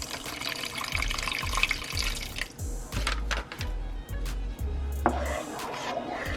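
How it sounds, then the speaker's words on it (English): Chicken broth poured into a pan while Swedish meatballs cook, a steady close liquid pour and splash with a few clinks of utensils, no talking. "we're gonna pour some more of our chicken broth"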